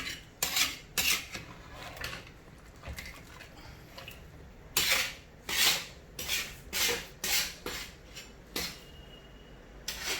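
A metal utensil scrapes and clinks against a pot of egg curry after water is added, in irregular stirring strokes, close and fairly loud.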